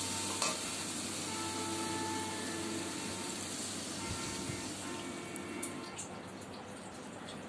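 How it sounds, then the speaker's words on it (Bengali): Vegetable curry sizzles and stirs in a pan as it is fried down for a fish curry, a steady close hiss with scraping spoon movements and kitchen clatter, no talking. "তরকারি কষানো হয়ে গেছে"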